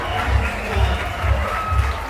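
Crowd at a climbing competition roaring and cheering in rhythmic swells, a dense wash of many voices rising and falling about every half second, loud and close throughout.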